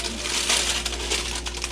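Parchment baking paper crinkles and rustles as a no-knead artisan loaf is lifted out of its baking vessel onto a cooling rack, a close, steady crackling with a few sharper crinkles.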